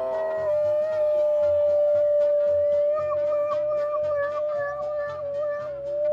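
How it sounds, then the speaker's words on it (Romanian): A dog produces a sustained, wavering howl with a steady tone that holds for several seconds, close and fairly loud, with faint rhythmic background noise underneath. "E câinele cântător."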